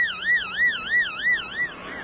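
Amplified EEG delta brain waves at 3 to 4 hertz, recorded during an epileptic seizure and rendered audible, heard as a warbling, siren-like tone that sweeps up and down about every third of a second and pulses in loudness, with no voices.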